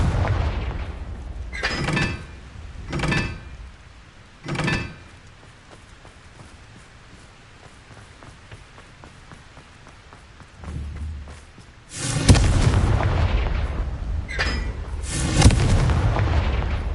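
Confringo blasting spells explode in the video game Hogwarts Legacy, sounding as a series of sharp, booming blasts. Several separate bursts come first, then a louder, denser cluster of explosions near the end.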